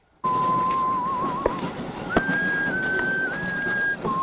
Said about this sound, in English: That tune he is whistling is very haunting